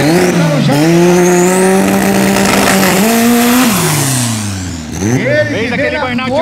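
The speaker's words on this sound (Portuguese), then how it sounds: "Fez aquele burnout mais curto para recuperar equipamento" A loud drag-racing car does a short burnout beside a Chevette Godzilla, its engine roaring steadily with shifting pitch and tires squealing, while a commentator talks over it.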